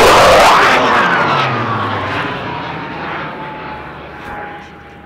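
A military aircraft passes low over a kiteboarding beach near Cape Town, a loud roaring jet engine rush that peaks at the start and then fades with a falling whine as it moves away.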